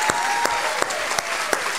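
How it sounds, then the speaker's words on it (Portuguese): Audience applause at the official opening of the 28th regional forum for strengthening a partnership network, a steady wash of clapping with a few sharper claps standing out, no voices over it. "Merece palmas."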